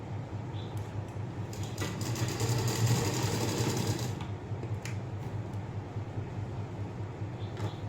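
Sewing machine stitching a blouse lining, a steady close mechanical whir with rapid needle clatter and low motor hum, swelling louder midway and then running on more quietly with a few light clicks.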